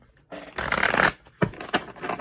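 Cards being shuffled close up: a long riffling burst, then a few shorter shuffles and taps.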